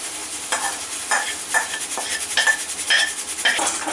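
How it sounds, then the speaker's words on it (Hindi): Onion is stirred and fried in a chole masala in a pan, with repeated rhythmic scraping strokes of a spoon over a soft sizzle, close and fairly loud, with no voices. "मसाले में भी मैं इस प्याज को 2 मिनट के लिए भूनूंगी"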